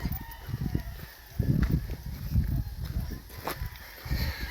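Fighting roosters and chickens on a farm in Murcia, Negros Occidental, crow and cluck in the background amid outdoor rustling and handling noise, the calls scattered and fairly faint against wind and movement.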